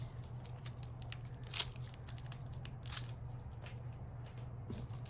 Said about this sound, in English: peel off the backing